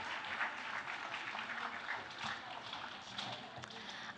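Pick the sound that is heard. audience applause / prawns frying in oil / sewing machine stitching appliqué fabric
audience applause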